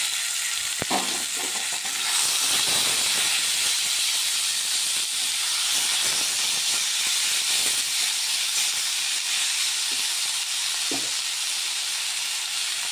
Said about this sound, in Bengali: তো দেখো রসুন বড়ি আমার ভাজা হয়ে গেছে, এখন আমি শাকগুলো দিয়ে দিচ্ছি